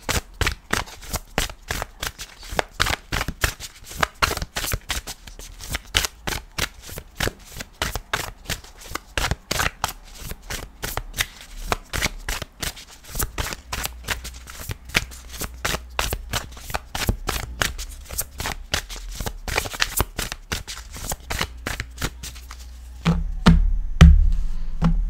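Tarot cards are shuffled by hand for a reading, producing a rapid, continuous run of close, crisp riffling flicks and taps, with a few louder knocks near the end.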